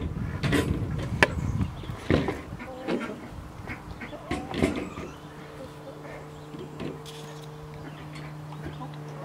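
Ducks quacking outdoors on a homestead, a scatter of short calls over a steady breezy background, with a faint constant hum in the later seconds.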